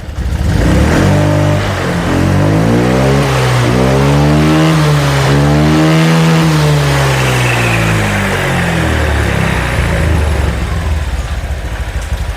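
A Honda Vario 125 scooter engine revs hard at full throttle, loud and close, its pitch climbing and falling in a long sweep before holding at a steady high drone, with no talking.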